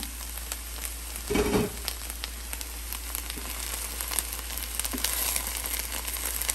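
Okra (bhindi) frying in a pan for a Punjabi-style bhindi fry, a soft steady sizzle running throughout with a brief louder burst of stirring or clatter early on.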